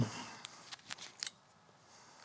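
Scissors make a few quiet, crisp snips through the paper backing on a Sure White EPDM roofing membrane, with short pauses between cuts and near silence after.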